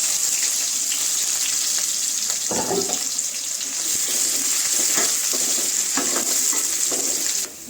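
Onions frying in plenty of oil with fenugreek seeds and curry leaves for a fish curry, a steady bright sizzle with intermittent stirring scrapes, ending abruptly.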